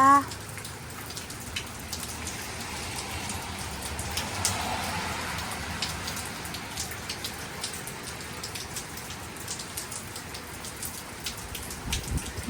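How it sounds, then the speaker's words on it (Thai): Heavy rain drums steadily on a car while driving, a dense, continuous patter and hiss with scattered sharper drop hits, fairly quiet overall and without speech. "ฝนตก ค่ะ ขับรถเข้าไป นะคะ"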